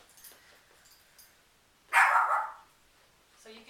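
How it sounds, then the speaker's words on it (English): A dog, a female, gives one loud, close bark indoors, preceded by faint whimpering and followed by a quieter yip. "I think she's barking because she's inside there."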